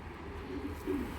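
Low, soft cooing from a foreign racing pigeon in a seller's loft, a brief muffled murmur over steady background noise, with no voices.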